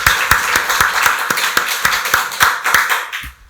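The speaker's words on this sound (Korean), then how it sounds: "박수로 하나님께 영광 돌리겠습니다." A church congregation at a Sunday worship service claps in a steady, rhythmic beat, sharp hand strikes repeating about every quarter second, loud and close, then trailing off at the end.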